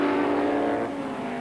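Race cars roar around Oran Park circuit during the 1979 Rothmans International Series, a steady, loud, high-pitched engine note that eases slightly as the cars pass on.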